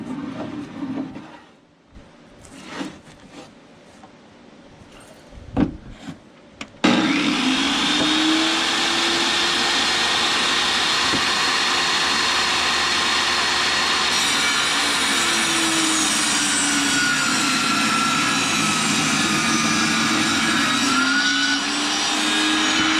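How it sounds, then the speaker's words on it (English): A power saw cuts through a heavy live edge wood board, starting abruptly after a few quiet knocks and shuffles, then running as a loud, steady whine for the rest of the span. "let me flip it and I'll finish the cut."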